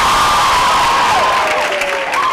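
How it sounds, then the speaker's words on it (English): A college audience at a film promotion event with Kangana Ranaut and Imran Khan bursts into loud close applause, cheering and high whoops. "You have to give him a big round of applause."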